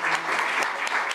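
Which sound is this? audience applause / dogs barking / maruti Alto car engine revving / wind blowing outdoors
audience applause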